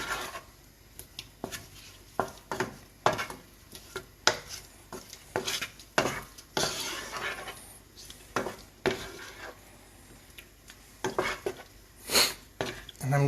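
Shrimp being stirred in a pan over medium heat, with repeated scraping and clinking of a utensil against the pan in irregular bursts, close and moderately loud, with faint sizzling underneath.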